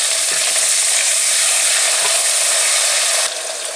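Garlic-ginger paste and tomatoes hit hot oil with lightly browned onions for chana dal kofta, giving a loud, steady, close sizzle and crackle throughout that drops off slightly near the end.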